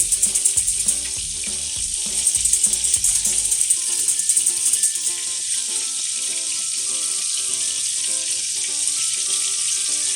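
Brown stock stirred into a sizzling pan sauce for duck breast with honey and raspberry, starting with a few quick scraping stirs, then settling into a steady bright hiss heard close and alone.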